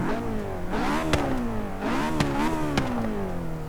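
A slow car in Forza Horizon 3 revving hard, its engine note rising and falling in two sweeping pulls, with a few sharp clacks from shifting, loud and close.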